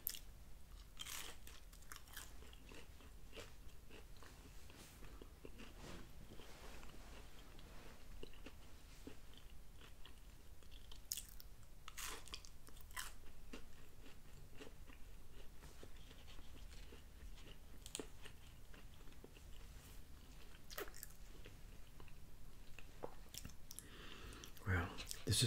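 Close, quiet mouth sounds of someone eating Domino's pepperoni pizza: steady crunching and soft wet chewing with scattered clicks and bites running throughout, intimate and low in level.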